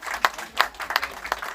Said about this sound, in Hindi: एक बार तालियां हो जाए अमन जी के लिए